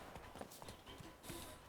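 Horse hooves clip-clopping in the video game The Witcher 3: Wild Hunt, a few soft uneven hoof steps at a walk, fairly quiet amid background ambience and wind.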